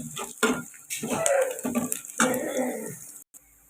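Chopped onions fry in a pan with coarsely crushed garlic. Loud bursts of sizzling hiss and scraping stirring come in uneven waves, with a short dropout near the end.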